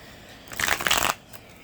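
Tarot cards are shuffled in a single short, close riffle, a dense flutter of papery snaps lasting about half a second with quiet surroundings before and after.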